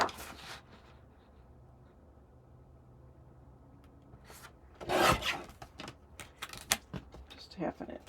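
Card paper being cut down by about half an inch, a few brief scraping and rasping strokes up close after a quiet stretch, with faint rustling around them.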